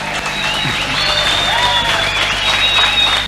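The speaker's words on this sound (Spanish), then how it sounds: "aplauso!" Outdoor crowd applauding and cheering after a 124-metre record-breaking grill, a loud, sustained wash of clapping with whistles and shouts over it, ending abruptly.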